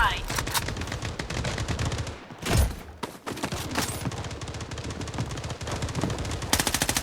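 Rapid automatic gunfire from the mobile shooter game Blood Strike, loud dense bursts with a brief pause and heavy blasts, under a game soundtrack and a player's occasional voice.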